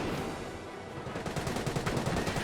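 Dense, continuous small-arms and machine-gun fire in the WWII strategy game Company of Heroes, a steady rattling barrage mixed with battlefield noise, loud and close throughout.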